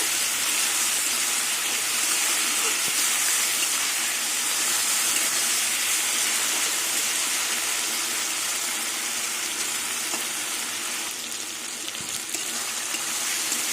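Tomato and spices frying in a pan while cooking kochur loti with shrimp, a continuous bright sizzle and hiss that holds steady for the whole stretch with small crackles, no talking.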